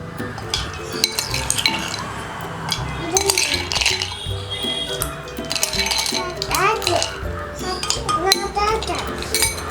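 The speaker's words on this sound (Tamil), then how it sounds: "நம்ம இப்போ ஐஸ் க்யூப் ஆட் பண்ணிக்க போகிறோம்." Ice cubes clink into glasses of pomegranate juice drinks, with busy glass and cutlery clatter, stirring and scattered knocks running steadily throughout at moderate loudness.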